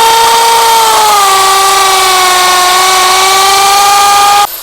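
A power drill boring a hole into a wall, a loud, steady high-pitched whine that holds for several seconds and then cuts off abruptly.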